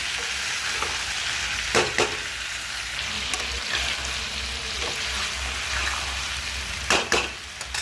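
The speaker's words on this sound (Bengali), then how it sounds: "এটা ভালো করে ভাজা ভাজা হবে।" Green peas frying in a pan, a steady crackling sizzle with a few sharp scrapes of a spoon stirring, close and fairly loud, no talking.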